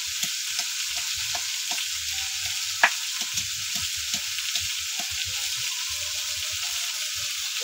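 Vegetables with salt and turmeric stir-fried in a pan give a soft, steady sizzle with scattered scraping and stirring clicks, fairly quiet and close, no talk.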